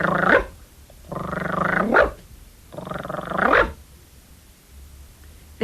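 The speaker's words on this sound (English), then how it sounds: "Toby Dog came out into his garden next door. He ran round and chased his tail and barked." A dog called Toby barks in three separate bursts, close and loud, with short pauses between them and no other sound around.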